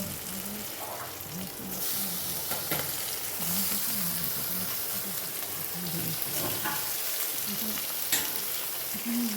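Khoira fish frying in a pan with onion and tomato, a constant close sizzle with occasional spatula scrapes and stirring knocks.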